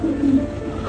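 Pigeons cooing in a staged theatre drama: a short, low, throaty coo, fairly close and clear, over a soft background hiss.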